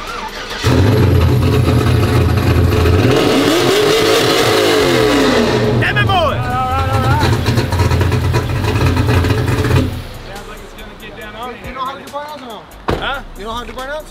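A deep V8 truck engine rumbles loudly and steadily, then revs up and eases off before settling into a lower idle with some faint clatter.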